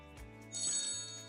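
A phone rings with an electronic ringtone for an incoming call placed by an automated mass voice-calling service, one short melodic burst over a low sustained tone, close and clear, with no voices.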